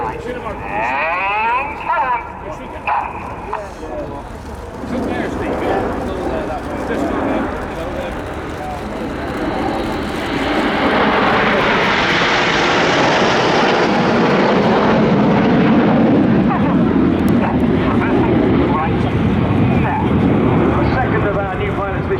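A Eurofighter Typhoon jet at an airshow builds from a distant rumble into a loud, sustained roar that swells and then holds, while an announcer talks over the noise.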